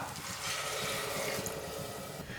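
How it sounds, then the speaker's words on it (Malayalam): Water is poured into a pressure cooker over rice for green peas pulao, a steady gushing and splashing stream that runs for the whole brief stretch, close and moderately soft with no speech. "ഇനി ഇതിലേക്ക് നമുക്ക് വെള്ളം ഒഴിച്ചു കൊടുക്കാം"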